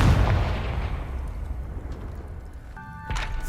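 A Confringo explosive spell cast in the Hogwarts Legacy video game bursts with a loud, booming blast that rolls into a long fading rumble, followed by a brief chiming, tonal magical flourish near the end.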